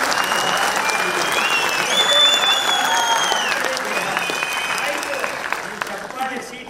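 A crowd at a Kannada poetry event applauds while several people whistle in long, sliding tones over the clapping, and a voice can be heard faintly beneath the steady applause.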